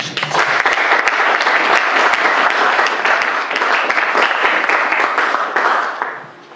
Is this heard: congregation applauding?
yes